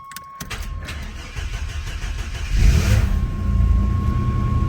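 A Duramax diesel pickup, wrecked and left sitting about three weeks on a snowy day, cranks and fires up, settling into a loud, steady idle that swells heavier partway through, close by with no talking.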